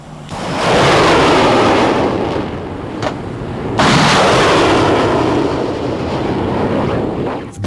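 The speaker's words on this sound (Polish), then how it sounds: "artyleria przeciwlotnicza małego kalibru" Small-caliber anti-aircraft artillery of the Polish army firing outdoors, heard as a loud, sustained roar of rapid bursts in two long stretches with a brief gap, carried on a broad windy wash and no talk.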